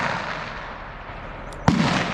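A single sharp gunshot at an outdoor shooting range cracks out near the end, sudden and loud against a steady background hiss and wind, with a short ringing tail after the report.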